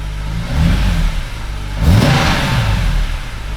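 A car engine fitted with polyurethane engine bushings revs up twice, rising into a throaty mid-pitched roar and then settling, heard close with a steady rumble underneath.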